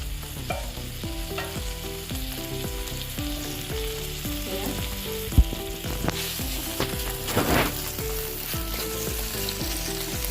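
Chicken cooks in a kadai with a steady, dense frying sizzle and occasional stirring knocks, heard close over a continuous tonal melody throughout.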